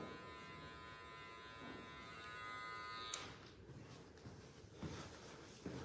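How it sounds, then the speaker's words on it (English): Electric hair clippers run with a steady buzz during a clipper-over-comb pass on a short men's fade, the motor tone cutting off about halfway and giving way to quieter handling and cutting sounds. "we're just gonna clipper over comb this and be more efficient with our time here"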